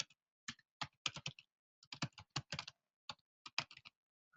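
Someone types on a computer keyboard during a webinar, sharp key clicks landing in quick bursts and short runs separated by brief pauses, close and clear with no talk.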